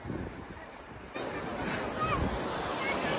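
Sea waves wash in at Diveagar beach in Raigad, a steady broadband surf rush with wind noise on the microphone, swelling louder partway through as water rolls close.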